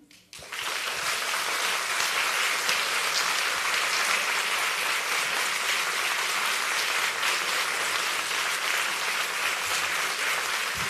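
Audience at a startup pitch battle applauding to drive an applause meter, a sudden burst of clapping that rises within a second and holds as a full, steady roar of many hands to the end.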